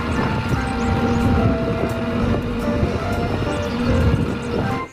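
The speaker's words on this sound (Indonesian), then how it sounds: "Wow, ada kereta api uap." A toy steam train runs with a steady, loud mechanical whir and rumble that holds its level throughout. The sound stops abruptly at the end and no one speaks over it.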